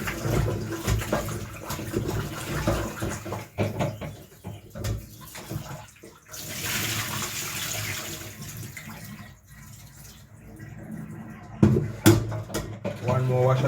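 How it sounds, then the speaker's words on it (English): Tap water runs steadily over a coconut being washed in a Jamaican home kitchen, a continuous splashing wash with some clatter and a brief sharper knock near the end, and a voice speaking over it. "One more wash again with the running water."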